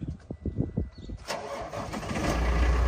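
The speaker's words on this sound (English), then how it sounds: "So I'm here with Garrett, he'll fire it up, give you a nice demo." A 2009 Sterling Acterra truck engine cranks with a rapid chugging starter rhythm for about a second, then catches and settles into a loud, close, steady diesel idle.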